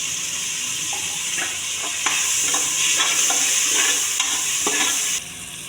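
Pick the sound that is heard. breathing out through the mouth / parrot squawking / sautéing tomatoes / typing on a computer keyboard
sautéing tomatoes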